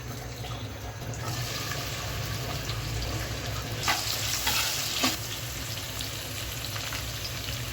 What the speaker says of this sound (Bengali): মুগ ডালটা আমি ভেজে নিচ্ছি। তেলটা শুকিয়ে নিলাম, এখন আমি তেল দিয়ে দিচ্ছি।